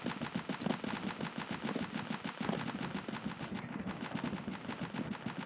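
Heavy firefight in Escape from Tarkov, with rapid, continuous bursts of automatic gunfire and booming reports packed densely together for the whole stretch, loud and relentless, with no voices.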